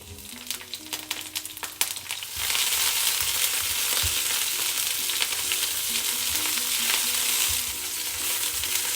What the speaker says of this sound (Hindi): ऑयल गर्म होने के बाद हम डालेंगे गार्लिक।